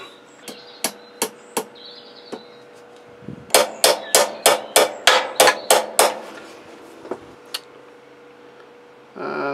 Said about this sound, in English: 2 each nails, which I'm going to hammer in.